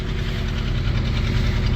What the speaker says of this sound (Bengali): একের পর এক ট্রলার ঢুকতে শুরু করলো এই খাল দিয়ে